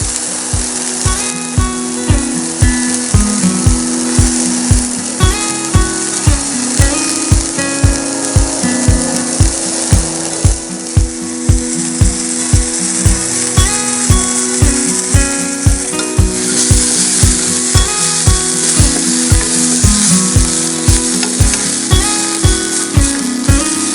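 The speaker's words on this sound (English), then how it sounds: "you kind of hear the skins popping and stuff like that" Chicken skins sizzle and pop in a Dutch oven, caramelizing uncovered, a loud, continuous frying hiss with steady crackles and clattering stirring, no voices.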